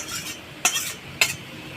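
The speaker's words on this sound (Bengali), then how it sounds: "এই যে ভাজা আলুগুলো তো ঢেলে দিলাম ভাজা আলুগুলো" Fried potatoes being stirred into a cooked spice masala in a pan: two sharp metal spatula clinks against the pan over a faint background hiss.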